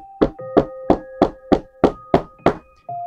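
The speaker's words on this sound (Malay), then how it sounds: "lama kelamaan bunyi ketukan tu semakin kuat" Sharp, evenly spaced knocks on a door, eight in a row, loud and close over a faint sustained eerie tone, used as a horror story sound effect.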